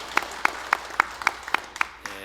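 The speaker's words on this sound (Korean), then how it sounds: "하나님께 영광 박수 올립니다" Sharp, evenly spaced claps from a church congregation during a Sunday service, about eight beats in a steady rhythm, moderately close and clear, followed at the end by a faint tonal hum.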